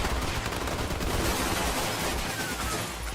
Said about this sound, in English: The administrator's voice was followed by the onslaught of gunfire.